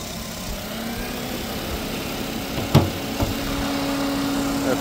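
A 2006 Nissan Micra with a 1.6 petrol engine of 110 horsepower idling: a steady, fairly quiet, even hum with a couple of brief clicks partway through.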